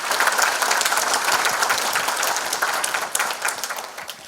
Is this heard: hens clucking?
no